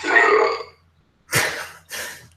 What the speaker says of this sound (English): It's not a stream without a belch.